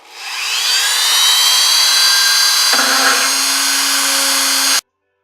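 A high-pitched Dremel rotary tool whines at speed, grinding steadily with a shift in tone midway, then cuts off abruptly.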